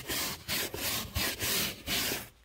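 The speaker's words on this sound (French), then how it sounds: "Donc là, la petite brosse spéciale tapis." A small carpet brush scrubs a beige car floor mat in quick back-and-forth strokes, about six rhythmic rasping passes, close and distinct with no talking.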